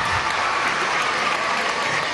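Audience applause at a Venezuelan government event celebrating the Simón Bolívar children's and youth symphony orchestra system, a dense, steady wash of clapping that holds at an even level throughout without voices.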